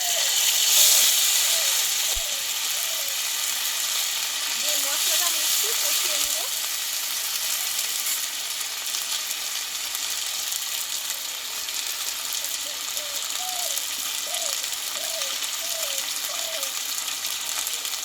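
Whole cumin, ginger and green chilli paste frying in oil with five-spice seeds for a tilapia curry, giving a continuous hissing sizzle that runs steadily throughout while a person talks over it.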